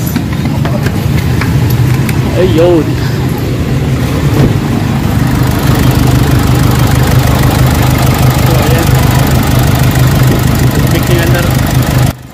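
Diesel engine of a Nissan Navara idling steadily with a low-powered, fuel-knocking rumble throughout, close and continuous, while someone talks over it.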